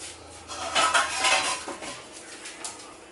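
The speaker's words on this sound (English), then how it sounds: "I'm just going to grab my lid" A metal pot lid is picked up in a kitchen while a Greek meat sauce comes to a boil, making a brief close clatter and a few light clinks, no voices.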